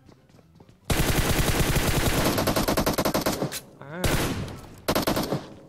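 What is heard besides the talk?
gunfire spraying an enemy in PUBG Mobile video game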